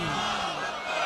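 A large crowd gathered in a street roars a short, loud group shout in answer to a religious slogan at a devotional gathering.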